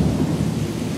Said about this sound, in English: it's raining in AZ, and since it's monsoon, we get floods